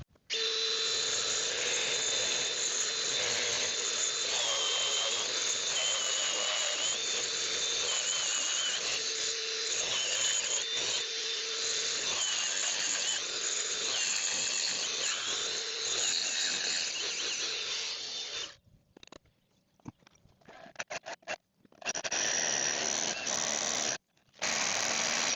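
A power drill whirs loudly and steadily for most of the clip, drilling holes for balcony railings, then stops and starts in short bursts before spinning up again.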